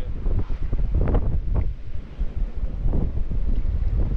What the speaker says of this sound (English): it's pretty windy down here